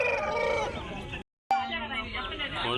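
A rooster crows at the Gudur chicken market, two loud, close calls separated by a brief silence, with someone talking throughout.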